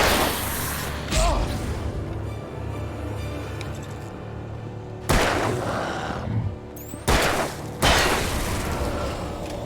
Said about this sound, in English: That explosion did no damage.